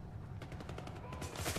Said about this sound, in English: Oh god, they're shooting at me!